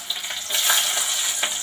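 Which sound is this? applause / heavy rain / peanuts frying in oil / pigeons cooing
peanuts frying in oil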